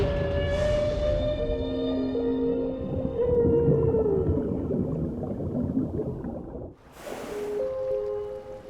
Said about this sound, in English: male humpback whale, a singer. His complex and haunting song can be heard for miles underwater.